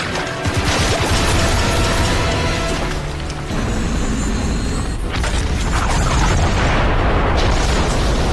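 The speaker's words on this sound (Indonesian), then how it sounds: "gedung ini akan segera meledak" A building blowing up in an action film scene, a loud, roaring blast followed by continuous heavy rumbling and crashing debris with a second surge partway through, filling the whole stretch.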